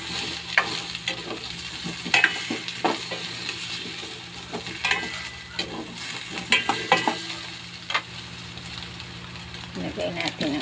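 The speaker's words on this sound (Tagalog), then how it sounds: "Igisa natin ang crab stick roll." Crab stick rolls sautéing in a pan, a continuous sizzle broken by repeated scraping and stirring clatter of a utensil against the pan, with a voice talking over the cooking.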